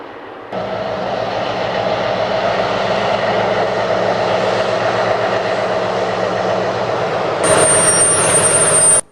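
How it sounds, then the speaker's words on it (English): A Class 60 diesel locomotive hauls a coal train in South Wales, its wheels slipping for grip. A steady, loud mechanical drone holds throughout, and a sharp, piercing high whine cuts in near the end. "The distinctive whine of wheel creep can be heard as this Class 60 fights for traction"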